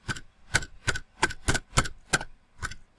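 Keys clacking on a computer keyboard as text is typed into a Visual Studio form, about nine distinct, evenly spaced, crisp strokes close to the microphone, with no talk.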